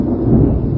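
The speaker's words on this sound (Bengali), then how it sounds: "মেঘ ডাকছে।" Thunder during a stormy day, heard as a brief, loud, deep rumble that rolls low and close without any voices.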